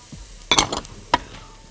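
Carrots added to a pan of onions frying in melted butter and oil give a burst of sizzling and clattering, followed by a second sharp clink of a utensil against the pan, close and fairly loud.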